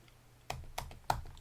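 Keys clack on a computer keyboard as data goes into a spreadsheet: three distinct, fairly quiet keystrokes in a quiet room, spaced unevenly about a third of a second apart.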